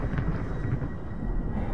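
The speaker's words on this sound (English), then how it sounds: "Why does it sound like there's a storm down here?" Deep, steady storm-like rumble in SOMA's underwater depths, a continuous low roar with a broad windy wash above it, holding even throughout with no voices.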